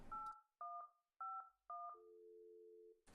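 Four quick bursts of two-tone keypad beeps from a phone in the puzzle game The Guest, then a steady, sustained tone for about a second, loud and clean with no talk.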